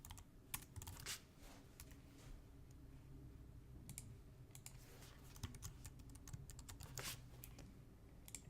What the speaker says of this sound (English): Type them in though, like this.